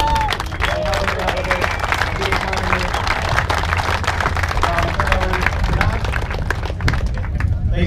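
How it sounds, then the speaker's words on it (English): Crowd at a JDM car meet in Chicago applauds loudly and continuously, dense clapping mixed with cheers and voices, tapering off near the end. "And a big round of applause to these guys for coming in."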